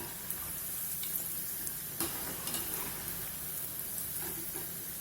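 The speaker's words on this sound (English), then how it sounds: "Keep the heat high and fry briefly." Cheese burst onion rings fry in hot oil over high heat, giving a steady sizzling hiss throughout with occasional faint clinks and stirring taps and no speech.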